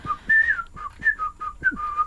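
A bright, melodic whistle from a played pop song, short tuneful phrases with rising and falling notes, clear and close with little else around it.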